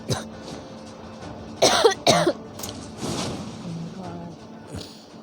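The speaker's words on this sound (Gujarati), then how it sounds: "ઉધરસ થઈ ગઈ છે." A woman coughs several times in short harsh bursts, two loud close coughs standing out, with game sounds and some faint talk around them.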